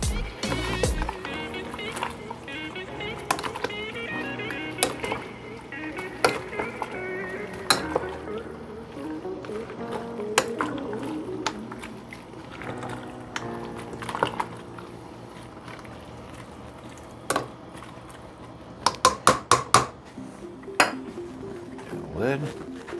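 Russian shchi cabbage soup being gently stirred and folded in a pot, with scraping and clinking of utensil against metal, soft sloshing, and a burst of sharp clinks near the end, under occasional speech.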